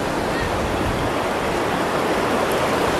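A river flows beside a rice paddy and a riverside cafe near Gunung Halimun Salak National Park in Bogor, giving a steady, close, broadband rush of water that holds evenly throughout with no talk.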